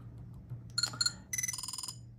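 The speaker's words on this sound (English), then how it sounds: "alert us that we got a new message" A new-message alert tone from a SenseCAP Meshtastic device: a couple of bright, ringing electronic chirps followed by a rapid series of about a dozen pulsing beeps, clear and close against a faint background hum.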